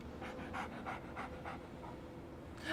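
The dog companion Dogmeat in the video game Fallout 3 pants in quick, rhythmic breaths, close and steady, with no talk over it.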